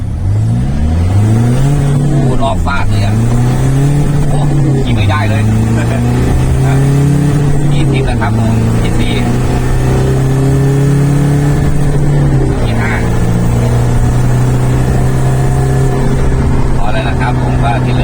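Nissan Navara D40 cab pickup with a tuned turbo, engine droning steadily as it drives and accelerates, pitch rising and dipping through several gear changes, close and loud, with faint talk mixed in.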